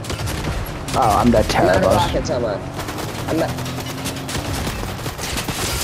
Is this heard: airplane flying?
no